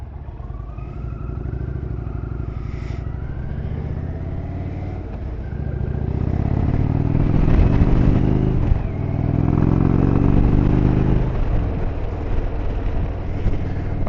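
A motorcycle carries its rider along a road in New Brunswick, the engine droning steadily and close with rising revs and gear changes midway, plus wind rumble throughout.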